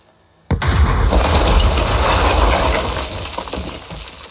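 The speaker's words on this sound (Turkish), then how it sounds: "Kendi kendine mi patladı?" An explosion in the video game Warzone, a sudden loud blast that erupts after a brief quiet and is followed by a long, rumbling, debris-filled roar that slowly fades.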